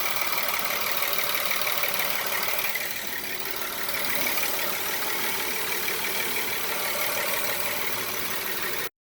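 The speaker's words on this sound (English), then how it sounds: "If you see right now, the engine isn't vibrating at all." A 2012 Volkswagen Passat 3.6L V6 engine idles steadily and up close, a smooth, even hum with a faint ticking texture, running alone for about nine seconds before cutting off abruptly.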